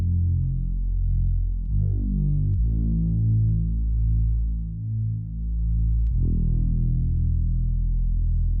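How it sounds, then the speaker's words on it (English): A thick, detuned Reese bass made in the Vital synthesizer drones low and continuous, throbbing and phasing with a slow wobble, shifting pitch a couple of times. "I created this Reese bass inside of Vital."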